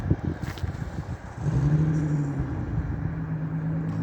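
A car with a loud muffler rumbles close by at a traffic stop, its low exhaust drone swelling and holding steady after a brief dip.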